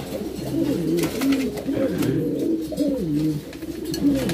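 Domestic pigeons cooing inside a loft, several overlapping low, rolling coos that rise and fall continuously, close and fairly loud, with no talk.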